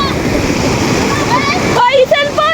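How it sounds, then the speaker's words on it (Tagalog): Strong ocean waves crash and churn loudly on a beach, a dense roar of surf and splashing water with people talking and shouting over it. "Puro gulong po, sobrang lakas po ng alon."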